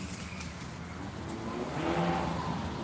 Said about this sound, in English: There's cars going by and motorcycles making noise.